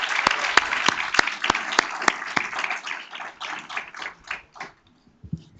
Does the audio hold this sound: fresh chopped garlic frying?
no